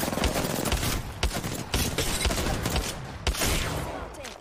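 Rapid video-game gunfire crackles through the whole stretch, dense overlapping bursts with sharper single shots standing out, loud and close, with no talk over it.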